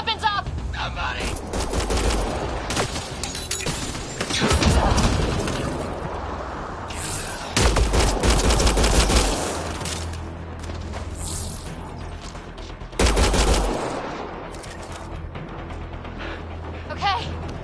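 Mass Effect Andromeda firefight with repeated bursts of automatic weapon fire over a mechanical, clattering battle din. Heavy volleys recur at intervals, and characters talk amid the shooting.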